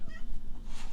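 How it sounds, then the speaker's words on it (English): A cat hisses sharply at close range in one brief, raspy outburst, loud and breathy against quiet background noise. "I don't know if you heard my cat hissing at me"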